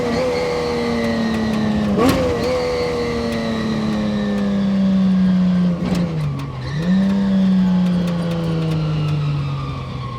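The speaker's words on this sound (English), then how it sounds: "I just cannot believe how good this car sounds." Classic car engine, bright blue, revving loudly while driving on a sunny day, its throaty drone rising and dipping through gear changes with a few sharp throttle blips, steady and close throughout.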